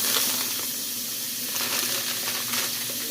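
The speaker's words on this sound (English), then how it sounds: "I'm going to drop in my whole stick of butter" Whole stick of butter sizzling in a hot pan over lowered heat, a steady close frying hiss with soft crackles throughout, no talking.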